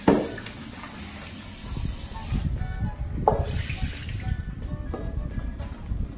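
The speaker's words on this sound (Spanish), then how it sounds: "Voy a colar un poquitico." Water drains as soaked dry cured beef is strained in a kitchen, a hissing, splattering flow after an initial clunk, with a second knock midway and the pour continuing to the end.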